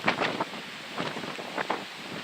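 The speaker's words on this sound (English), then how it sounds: "It's a bit blowy here now the snow's gone" Strong wind blows outdoors after snow, buffeting the microphone in loud rushing gusts that rise and fall over a constant roar.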